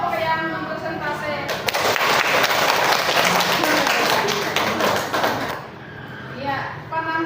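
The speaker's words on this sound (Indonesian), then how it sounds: "kita beri tepuk tangan untuk semua kelompok yang mempresentasi" Children in a classroom burst into several seconds of lively applause, a dense wash of clapping that tapers off, with a teacher's voice speaking before and after.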